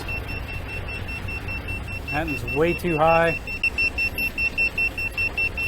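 A carbon monoxide detector alarm gives a steady, high-pitched electronic beeping in quick regular pulses, with a person speaking briefly over it partway through.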